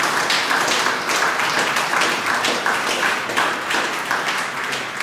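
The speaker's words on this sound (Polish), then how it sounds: "Tak, brawa." Applause at an award ceremony for the Divinis et Humanis prize: a large audience claps steadily and densely, a full, even wash of hand claps with no talking over it.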